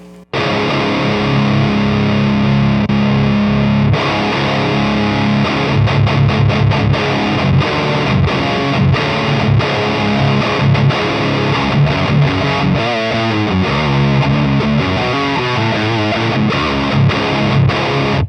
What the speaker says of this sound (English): let's turn on the blue aggression on the Revv